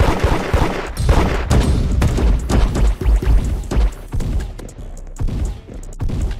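Rapid gunfire from an online shooter video game set in a hood, with dense bursts of shots and thuds, loud and near, continuing with short pauses toward the end.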